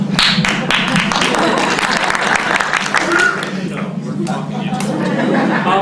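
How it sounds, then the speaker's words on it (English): An improv theater audience claps and chuckles before a performance begins, the applause moderately loud and close with lively crowd noise, while a performer talks over it throughout. "We haven't done a thing yet and they're applauding."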